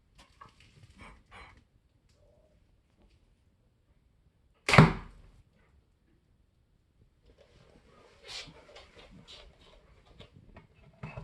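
Arrow loosed from a Korean traditional bow, or gukgung, one sharp, loud snap and whoosh standing alone in near silence, followed later by soft rustling and handling noises.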